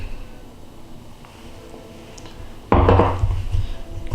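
Melted salted butter and a single egg are mixed in a bowl, a quiet stretch giving way to a sudden loud scraping, clattering burst of utensil against bowl that continues in wet, uneven strokes up close.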